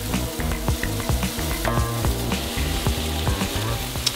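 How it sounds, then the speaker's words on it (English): Bacon fries in a hot pan for a Brussels sprouts dish, a loud, steady sizzle with repeated scraping knocks of stirring close by, no talk. "throw in all the bacon and stir them for about 5 minutes"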